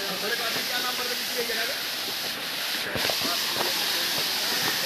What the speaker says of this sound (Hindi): देखिए डामकोल का ये झरना है